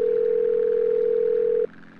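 A steady electronic phone tone in GTA San Andreas, one continuous pure beep holding for about a second and a half before cutting off abruptly, leaving quiet background hum.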